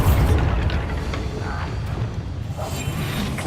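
A Bombarda spell explosion in the video game Hogwarts Legacy, a loud, rumbling boom that fills the whole moment with dense low roar and a whooshing burst.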